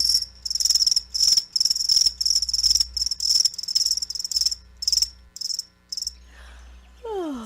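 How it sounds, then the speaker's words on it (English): Crickets chirp in rapid, pulsing bursts, loud and close, repeating steadily before a short rising whoosh at the end, played in a radio advertisement. "That's right, crickets."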